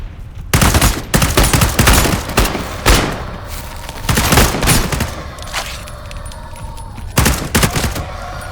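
Video game gunfire in Into the Radius 2, loud close bursts of rapid automatic shots in several volleys separated by short gaps.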